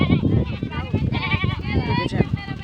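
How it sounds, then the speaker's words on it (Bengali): A herd of well-bred village goats returning from grazing bleat repeatedly, overlapping cries near and loud, mixed with ongoing human speech. "দেখেছেন কত ছাগল আছে এখানে"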